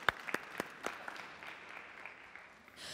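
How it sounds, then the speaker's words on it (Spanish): An audience at a Cuban comedy show gives a short burst of applause that is fairly faint and fades quickly, with a few sharp claps standing out at the start. "vamos a darle un aplauso porque vamos a empezar con la dama"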